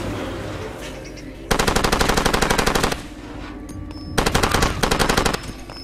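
Rapid automatic gunfire from the video game Far Cry 2, two loud sustained bursts of machine-gun fire separated by a quieter stretch of ambient game noise.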